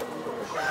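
A chicken for sale at a poultry market gives a brief, close cluck amid soft background noise.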